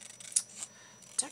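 A few quick, crisp snips of scissors trimming paper edges at a craft table, three faint sharp cuts spaced irregularly over a quiet background.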